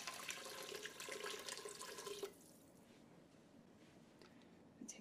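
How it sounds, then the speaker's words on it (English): Four cups of water pour from a tap or vessel into a pot of onion soup for about two seconds, a steady splashing rush. It then gives way to quiet kitchen noise with faint drips. "I'm just gonna add 4 cups of water instead of 4 cups of broth."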